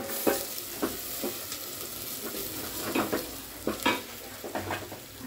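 Spices (cumin, turmeric, coriander and black salt) stirred into pulao frying in a pan, with repeated scraping strokes over a steady sizzle.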